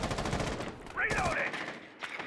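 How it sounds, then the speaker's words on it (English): Rapid bursts of gunfire crackle in a tactical shooter video game match, sharp repeated shots heard under a commentator's talk. "It doesn't matter where they are because there's gunfire happening."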